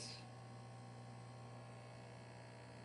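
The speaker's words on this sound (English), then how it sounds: "Here, compressor humming." An ice machine's compressor hums steadily and evenly, a constant low drone with faint broadband noise and no other sounds.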